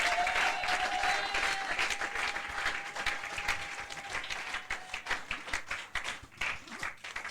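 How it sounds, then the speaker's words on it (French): A church congregation applauds during a French-language sermon, starting as a dense, steady wash of clapping that thins into separate, uneven claps as it fades toward the end. "Acclamons le Seigneur pour sa vie."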